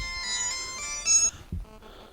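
A telephone ringtone chirps in short repeated melodic bursts, clear and fairly close in a quiet room, with no talk over it.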